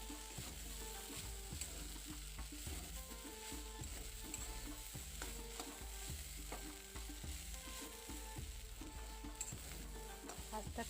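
Long yard beans (borboti) fry in a pan over low heat, giving a steady, dense sizzle with soft stirring scrapes running throughout, close and continuous with no talking.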